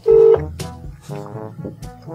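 An outgoing phone call on a new SIM, heard as a loud steady dial tone at the start and then softer ringback tones, with quiet room noise in between.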